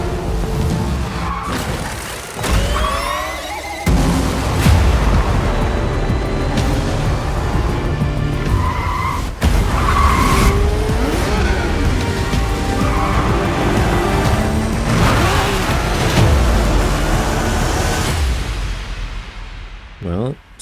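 Race cars in the video game Forza Motorsport on PC: a loud, continuous wash of engine roar and tyre noise with sweeping pitch changes and occasional sharp bursts, filling the whole stretch without pause.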